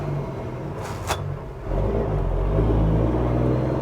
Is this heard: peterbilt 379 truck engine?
yes